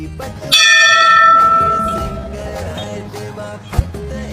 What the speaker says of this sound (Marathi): आपण घंटा वाजवू आता